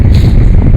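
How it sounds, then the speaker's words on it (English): Strong, steady wind gusting across an open fishing lake, buffeting the microphone with a loud, low continuous roar and no voices. "I just can't believe how windy it is."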